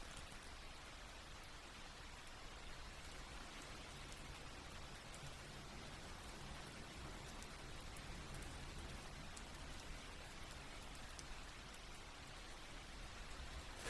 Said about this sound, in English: Feel the rain.